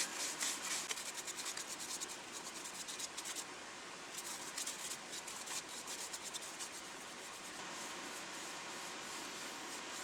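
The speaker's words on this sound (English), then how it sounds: "All I gotta do is sand it. So let me do that." Steady, continuous abrasive rubbing of sandpaper on a sycamore wood bowl, fairly quiet and close, with slight rhythmic strokes and no voices.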